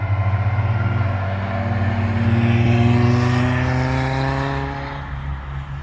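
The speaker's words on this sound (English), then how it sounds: "Now here's one coming round now that I know my dad would absolutely love. It's an old Lotus Cortina." An old Lotus Cortina drives past on a race track, its engine note sliding through a clear tonal drone that rises and falls as it approaches, passes close and recedes, with no talking.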